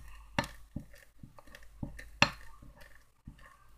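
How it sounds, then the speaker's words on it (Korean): A utensil stirs four microwave-melted marshmallows in a bowl, giving sharp clinks and scrapes against the dish in an uneven rhythm, close and clear, with no talking. "20초 정도 전자레인지 돌려서 녹였거든요. 그래서 한번 섞어볼게요."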